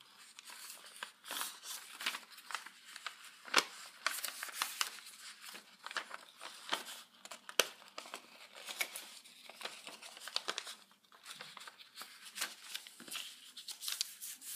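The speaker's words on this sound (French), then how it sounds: "je vais faire les plis dans l'autre sens" Origami paper is creased and folded close by, a quiet run of crisp crinkles, rustles and sharp snapping folds that come in irregular bursts for about fifteen seconds with no talk.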